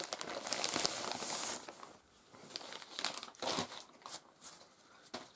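Black plastic bag being unwrapped from around a 1960s Dateline vintage hairdryer, close crinkling and rustling in uneven bursts with brief quieter gaps, no talking.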